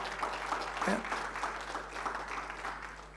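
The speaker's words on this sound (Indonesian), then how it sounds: "Berikan tepuk tangan ya." Church congregation applauding at a Sunday worship service, a steady wash of clapping with some voices mixed in, moderately distant and even throughout.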